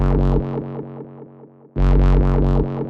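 A loud, distorted dubstep synth in Ableton Live plays pulsing chords whose filter is automated to open and close, while an echo with modulated dry-wet mix repeats the notes. There is a brief dip before the full sound returns.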